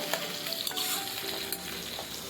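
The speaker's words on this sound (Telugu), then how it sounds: "ఇప్పుడు ఒకసారి కలుపుకుందాం. ఉల్లిపాయలు పచ్చిమిరపకాయలను నూనెలో బాగా" Onions and green chillies fry in hot oil while being stirred, giving a steady close sizzle with scraping stir strokes throughout and no talk.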